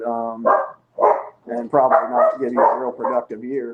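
Dogs bark indoors in a house where a snake keeper keeps pythons, giving short, yipping barks close by, mixed with a voice talking over them.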